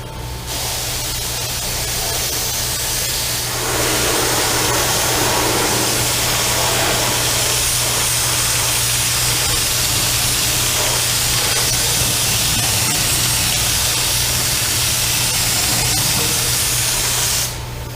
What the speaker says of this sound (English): I'm gonna get to spraying this vehicle and hopefully give you a good view of how it goes on